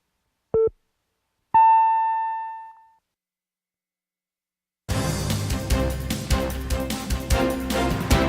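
Radio time signal marking 8 o'clock on a live Korean news broadcast: a short beep followed by a longer ringing tone that fades, then silence before music starts.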